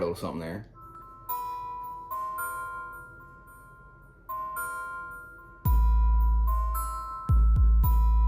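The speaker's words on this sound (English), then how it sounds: "So you hear the little bells there, right?" Light bell-like chimes ring out in a music track, with sustained tones under steady beats and a heavy bass that kicks in near the end.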